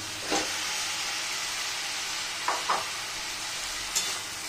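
Eggs stirred and sautéed in a little spiced oil with turmeric in a pan, a steady sizzle and hiss with a few brief spatula scrapes, close and alone.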